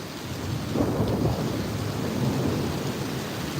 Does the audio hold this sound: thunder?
yes